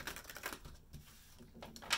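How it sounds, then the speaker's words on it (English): Tarot cards shuffled softly at close range, a quiet, uneven patter of light card taps and slides with a slightly sharper snap near the end, no voice. "let's get one more shuffle"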